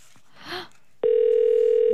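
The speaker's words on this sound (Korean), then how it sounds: "저 이렇게 또 전화를 안 받으시는 분을 골라버렸나요?" A steady electronic telephone ring tone sounds alone for about a second after a short quiet stretch, heard during a call placed on a live radio show and left unanswered.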